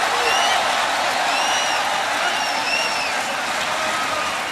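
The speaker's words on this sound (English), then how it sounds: "Listen to the crowd reaction." A boxing crowd at the end of a prize fight cheers and applauds in a loud, continuous roar, with a few whistles rising above the sustained clapping.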